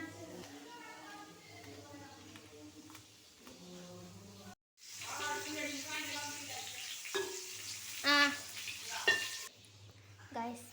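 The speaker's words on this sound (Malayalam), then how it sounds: "ഗൈസ്, ചിക്കനൊക്കെ ഫ്രൈ ചെയ്യാൻ വെച്ചിട്ടുണ്ട്." Chicken sizzles steadily in a frying pan, with occasional stirring clatter and a low hum running beneath voices speaking over the cooking.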